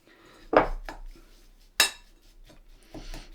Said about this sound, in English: So we just keep sort of cutting it up, mashing it with the spoon.